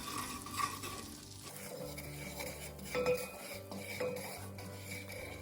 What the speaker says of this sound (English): I'm gonna just go ahead and just mix it around.